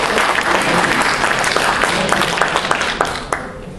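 Loud, dense audience applause fills a religious lecture hall, many hands clapping together and thinning slightly near the end.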